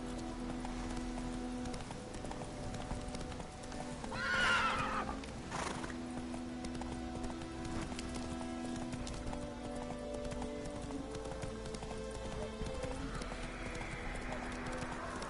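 Roach, a horse in the video game Witcher 3, gallops with steady rhythmic hoofbeats and lets out a loud neigh partway through, with an ambient game soundscape behind.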